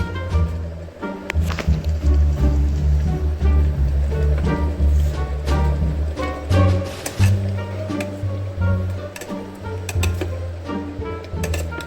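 Chicken Maggi noodles boil in an electric kettle with a continuous churning bubble and rapid popping clicks that swell and ease over several seconds. Faint voices may sit in the background.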